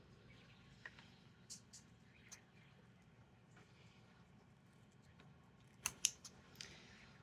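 Kitchen scissors cut through quail legs with a few faint, sharp snips and clicks over a quiet room hum, louder near the end, with no talking.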